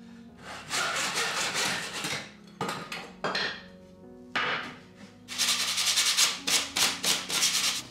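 Wooden boards cut to length for a TT 1:120 scale basement model railway baseplate, with several bursts of rasping saw strokes separated by short pauses and a long, dense run of cutting at the end, close and loud.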